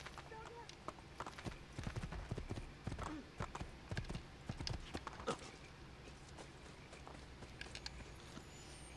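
Horse hooves clip-clop in the video game Assassin's Creed II, a steady, fairly close patter of steps that runs throughout. Occasional game sounds and a brief whinny mix in.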